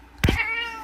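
A cat gives one loud, close meow that rises sharply and trails off in under a second, heard alone.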